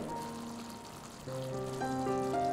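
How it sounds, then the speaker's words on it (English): Eggplant roast with coconut milk simmers over a medium flame in a pan, a steady close sizzle and bubbling that holds with no talk. "Now let's continue the cooking on a medium flame."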